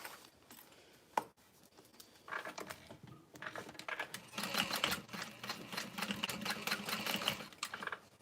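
A sewing machine stitches down a seam allowance on a tote bag, starting after a sharp click with short bursts, then running in a fast, rattling, steady stitch close by.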